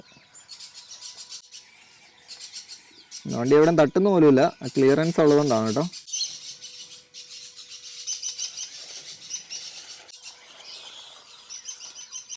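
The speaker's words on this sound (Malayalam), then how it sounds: "നമ്മളെ വണ്ടി കണ്ടിട്ട് കിളികളൊക്കെ കിടന്ന് അത്യാവശ്യം നല്ല രീതിയിൽ വെച്ച് വെക്കുന്നുണ്ട് കേട്ടോ" Wild birds chirp and tweet continuously outdoors around a small affordable off-road RC truck, a steady layer of calls, with someone speaking briefly partway through.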